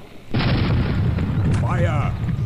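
Cannon and rocket fire aboard an airship in Air Buccaneers sounds as a loud, sustained booming roar with a sharp onset, and a voice shouts briefly over it.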